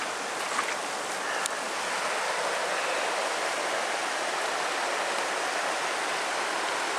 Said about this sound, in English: And the river runs through it.